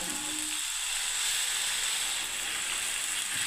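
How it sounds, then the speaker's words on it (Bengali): Chhena whey poured into a hot pan for Bengali chhanar dalna hisses and sizzles loudly, a bright continuous frying hiss, with a brief bubbling splash near the start and no talking. "এই ছানার জলটা আমি বন্ধুরা ঢেলে দিচ্ছি"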